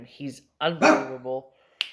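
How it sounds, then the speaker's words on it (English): Dogs bark indoors in short, sharp bursts close by, mixed in with a person talking over them. "Sorry about the dogs."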